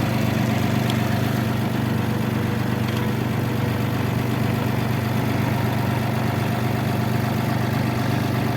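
An Iseki TU160 compact tractor engine idles steadily at 149 engine hours, a continuous, even, low mechanical drone that is loud and close, with no talk over it.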